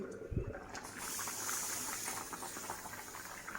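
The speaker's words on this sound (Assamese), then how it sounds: "ধুনীয়াকৈ উতলি আছে" Fish head masala with a large fish head simmers in a covered pot, a soft steady bubbling hiss after a brief clunk at the start, close and fairly quiet.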